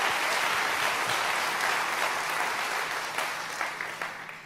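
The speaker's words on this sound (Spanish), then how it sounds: "Dale fuerte ese aplauso al Señor." A church congregation applauds at a service, with loud, dense, sustained clapping that slowly tapers off toward the end.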